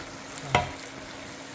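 Food cooks in a pan, with one short, distinct spatula scrape against the pan standing out once over a faint, steady background hiss.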